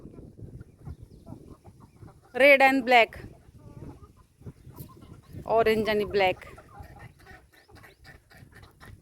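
Hens and roosters on a terrace cluck softly and continuously in the background, with two louder bursts of fowl calling, while someone talks intermittently.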